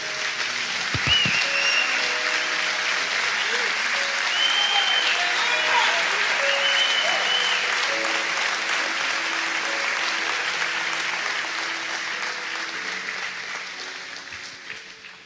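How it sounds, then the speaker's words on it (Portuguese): A church congregation applauds in a broad, sustained wash of clapping with crowd voices mixed in, holding steady before gradually tapering off toward the end. "Aplaude Jesus."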